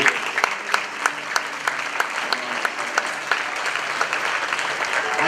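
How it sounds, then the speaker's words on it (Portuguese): A church congregation applauds steadily, with lots of overlapping claps forming a dense, even wash of sound that lasts throughout. "Vamos aplaudir a Ele."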